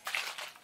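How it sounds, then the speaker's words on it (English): A spray bottle misting water onto thick 4C natural hair, a single short hissing burst of spray, close and clear, with no talking. "spray with water."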